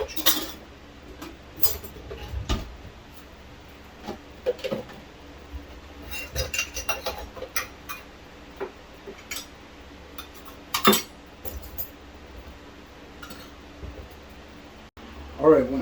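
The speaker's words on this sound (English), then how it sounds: "the cleaning and putting away of the dishes." Dishes and cutlery being washed and put away in a home kitchen, with irregular clinks and clatters of metal and glass, some sharp knocks, and quieter rustling between them, close by.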